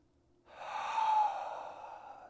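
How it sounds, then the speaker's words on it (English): A single long, breathy exhale through the mouth at the end of a yoga class in Savasana rises quickly and fades slowly, close and soft, with no talking. "Big exhale through the mouth."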